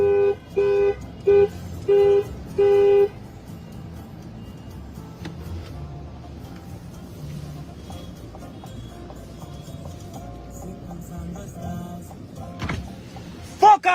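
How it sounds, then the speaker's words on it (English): A car horn honks five times in short, loud bursts at a street protest over immigration enforcement, followed by steady crowd and traffic noise with faint voices and a couple of brief louder blasts near the end. "No, honk the fuck out of it."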